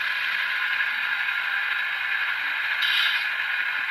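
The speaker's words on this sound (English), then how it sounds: "Put the brake on." A model train locomotive, a Tier 4 GEVO diesel, releases a steady hissing brake sound that holds evenly for several seconds and swells briefly near the end; close and alone, with no talking.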